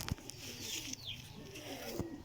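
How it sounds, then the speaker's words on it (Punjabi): Pigeons from a fancier's loft of commander birds coo softly and steadily at close range, with a couple of brief sharper knocks, and no talk. "ਇਹ ਮਾਸ਼ਾਅੱਲਾ ਚਾਚੂ ਹੋਰਾਂ ਦੇ ਕਮਾਂਡਰ ਕਬੂਤਰ ਨੇ।"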